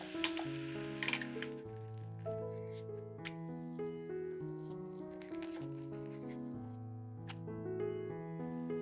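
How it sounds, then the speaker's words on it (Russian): A thin egg crepe sizzles steadily in a 24 cm frying pan over medium heat, a soft continuous crackle with occasional light clinks, beneath background music. "Жарим блин на среднем огне сначала с одной стороны, а затем переворачиваем на другую сторону."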